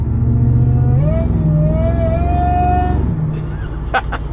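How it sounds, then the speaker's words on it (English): A supercharged Ford SVT Lightning pickup truck, about 25 years old, gives off a clear blower whine that climbs in pitch over its engine rumble, holds, then drops away, ending with a few light clunks nearby. "Listen to that blower."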